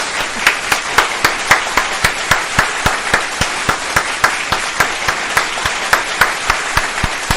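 A recorded applause sound effect played on a radio show: steady, dense clapping from a crowd, loud and continuous throughout with a regular rhythm of sharp claps, no voices over it.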